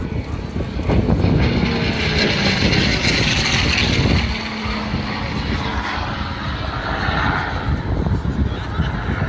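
A Supermarine Spitfire propeller warbird flies past at an outdoor airshow, its loud, rough engine roar swelling and fading with wind buffeting and crowd noise beneath.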